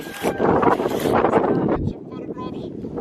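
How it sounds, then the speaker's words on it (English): Gusty wind buffets the microphone with low rumbling roar while a person talks over it, at Grytviken, South Georgia. "I don't know if you can hear me because of the wind"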